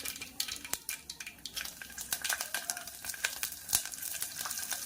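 Garlic sizzling and crackling in hot oil tempered with cumin and mustard seeds for dal, a steady close fry with scattered sharp pops and occasional stirring.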